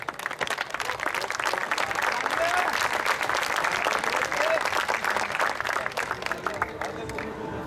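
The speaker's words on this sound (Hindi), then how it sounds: "एक बार जोरदार तालियों से स्वागत कीजिए बनज कुमार बनज जी का" A crowd at a kavi sammelan poetry event at IIT Jodhpur gives a poet a loud welcome: sustained, dense applause from a large audience with some crowd murmur, tapering slightly at the end.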